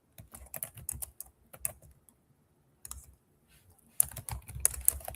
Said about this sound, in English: You guys hear me typing.